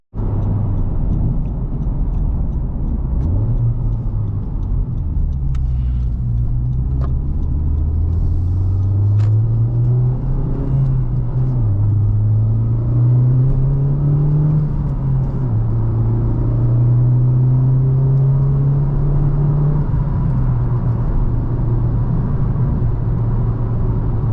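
A 2019 Honda Civic Type R pulls along a canyon road with a loud, steady engine drone whose pitch rises and falls as it accelerates and shifts, under road rumble and with no one talking.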